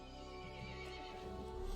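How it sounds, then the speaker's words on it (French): An angry horse in the video game Resident Evil 8 lets out a loud, drawn-out neigh over a steady ambient drone, with faint hoofbeat-like clops beneath it. "Le cheval se mit en colère et appela les autres monstres."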